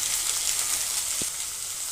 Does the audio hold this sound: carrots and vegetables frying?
yes